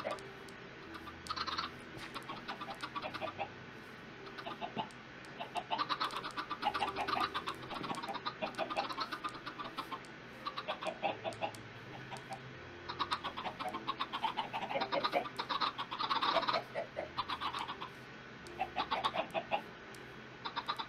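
Chickens cluck repeatedly in a Minecraft-style video game, with bursts of clucking and squawks over a low droning background and a clicking rhythm throughout.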